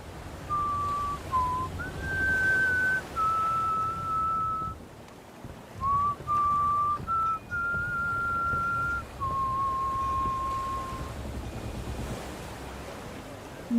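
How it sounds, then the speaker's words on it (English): A wavering whistle sounds in a series of short held tones at shifting pitches, separated by brief gaps, over a constant rushing background like wind or surf. "You just hear a whistle."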